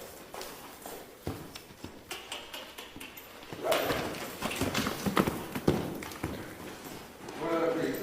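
Hooves thud in a quick, uneven rhythm on soft ground, close by, with scuffing and rustling around them.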